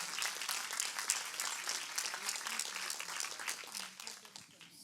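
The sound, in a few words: church congregation applauding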